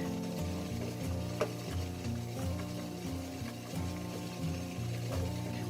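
Sticky rice for a longan dessert is turned over and stirred in a steamer, a soft scraping and stirring close by over a steady hiss and bubbling of steam, with no talking.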